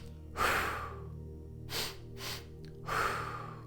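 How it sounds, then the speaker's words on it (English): Someone does a double-breath exercise: a quick sharp breath in, a long airy exhale, then two brief sniffing inhales and another drawn-out exhale, all close and quiet, with no talking. "we're going to take 2 sharp breaths and a shorter but more profound"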